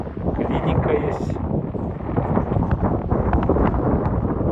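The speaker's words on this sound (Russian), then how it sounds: "Ветер какой здесь." Strong wind blows outdoors in a parking area in Naryn, Kyrgyzstan, battering the microphone with loud, continuous rumbling gusts that hold steady throughout.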